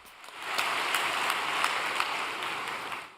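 An audience applauds at a vigil gathering, a soft, steady patter of many hands clapping at some distance, continuous for the whole stretch with no voices.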